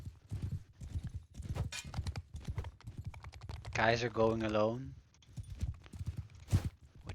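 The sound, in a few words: horse hooves in video game Bannerlord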